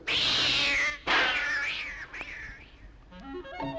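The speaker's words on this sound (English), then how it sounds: "scaring any black cat who might trot across my path" A black cat meows up close in two long, drawn-out yowls, the second wavering and fading, followed by faint musical notes.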